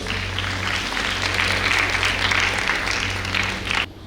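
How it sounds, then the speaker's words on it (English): Audience in a girls' hostel hall applauding during a Freshers' Day event, a dense steady wash of clapping under a low electrical hum, holding for nearly four seconds before cutting off abruptly. "Let's welcome her with a huge round of applause."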